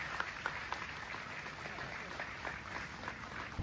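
An audience in an auditorium applauds at a district council swearing-in ceremony. The clapping is steady and diffuse, at moderate distance, with a few sharper claps standing out.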